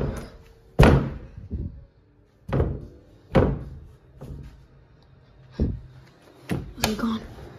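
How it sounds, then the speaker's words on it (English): A door swings and slams shut several times in a row, each a loud, close bang with a short decay, separated by brief pauses. "Door."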